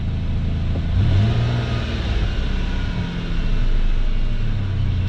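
A cold 2008 Dodge Avenger engine idles close and loud with a steady drone, rising briefly in a rev, settling, then swelling again, with no talking.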